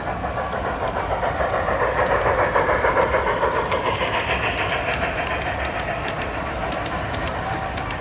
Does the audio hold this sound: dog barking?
no